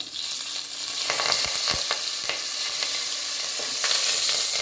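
Spices with asafoetida and turmeric sautéing in hot oil for sambar, with a steady close sizzle and a spoon stirring and tapping against the pan at irregular intervals.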